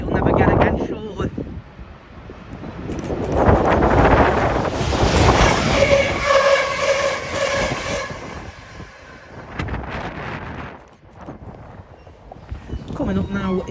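A Class 180 train passes through Doncaster station, a rumbling, whining roar that swells and fades over several seconds with wind buffeting the microphone.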